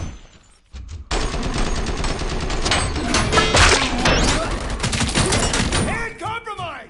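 Gunfire and grenade blasts from the video game Robocop: Rogue City, a dense, loud run of shots and booms lasting several seconds after a brief quiet start, with a voice talking over the end.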